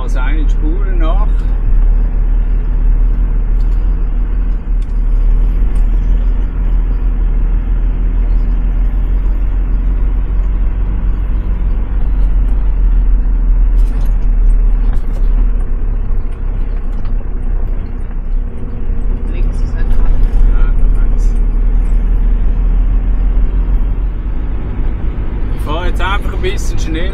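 Off-road car with lowered rear tyre pressure and locked differentials, driving over rough desert terrain in Kazakhstan's Mangystau region: a continuous loud engine and rumble throughout, with occasional knocks and rattles and a voice talking at times.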